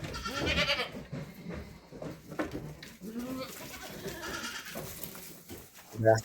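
Goats bleat on a farm where newborn kids are kept, a nanny goat among them, with several wavering bleats standing out under steady talk and background noise.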